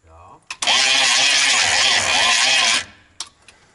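A GMC Vandura van engine cranks briefly, then catches and runs loudly and roughly for about two seconds before cutting off, followed by a couple of sharp clunks, with no talking.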